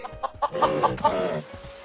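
Chickens cluck in a quick run of short, bright calls on a farm in the block-building game Mini World Block Art, fairly close and tapering off at the end.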